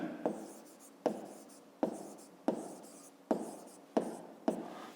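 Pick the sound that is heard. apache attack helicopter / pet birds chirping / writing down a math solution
writing down a math solution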